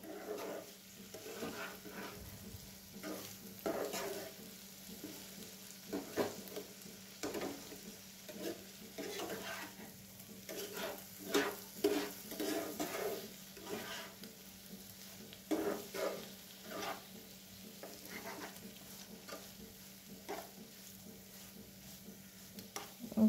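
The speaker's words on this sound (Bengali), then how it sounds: "এটা এখন খুব ভালো করে অনেক সময় ধরে এটা কিন্তু ফ্রাই করে নিতে হবে" Paneer sweet frying in melted sugar in a pan, with a soft continuous sizzle and repeated scraping stirs of a spatula at an irregular rhythm, close and fairly quiet.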